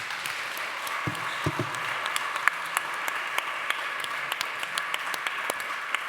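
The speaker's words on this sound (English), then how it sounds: "I think a big round of applause for all our projects." A conference audience at a Just Transition Platform opening session gives a light round of applause, scattered and fairly thin, with individual claps standing out over a soft room background.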